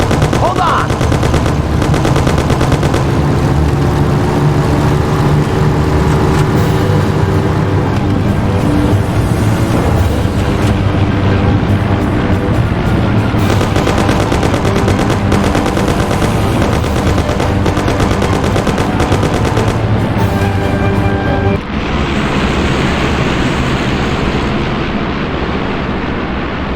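Relentless gunfire in the 1930s gangster game Mafia: The City of Lost Heaven, dense machine-gun bursts and booming shots in a chaotic shootout, loud and continuous, with engine rumble beneath and a shift near the end.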